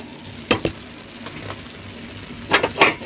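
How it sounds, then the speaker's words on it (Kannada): Tomato gojju simmering in a covered pot lets out a few sharp pops and soft bubbling bursts, spaced irregularly over a quiet, low background. "ನೋಡಿ, ಇವಾಗ ಕುದಿ ಬರ್ತಾ ಇದೆ."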